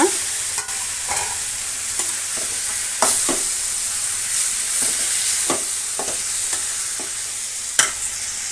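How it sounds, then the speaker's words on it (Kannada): Brinjal pieces fry in a hot pan, a loud, steady close sizzle punctuated by repeated sharp scraping and tapping of a spatula stirring, with no voices. "ಇದು ಕೂಡ ಸ್ವಲ್ಪ ಫ್ರೈ ಆಗಬೇಕು ಈಗ ನಾವು ಹಚ್ಚಿಟ್ಕೊಂಡಂತಹ ಮೂರು ಬದನೆಕಾಯಿ ಪೀಸ್ಗಳನ್ನು ಹಾಕೋಣ"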